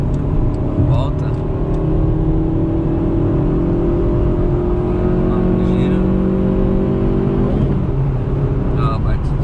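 Volkswagen Voyage 1.6 engine on a highway, a steady in-car drone with rising harmonic tones as revs climb at higher RPM, continuous and close, with faint road noise underneath.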